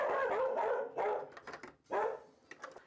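Dogs bark three times in quick succession, close and fairly loud, with short pauses between barks.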